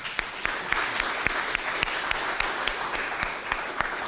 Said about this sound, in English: So a round of applause for Julija, please